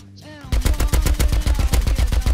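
Rapid automatic gunfire from the survival game Rust rattles out in a steady, loud stream of evenly spaced shots after a brief quiet lead-in.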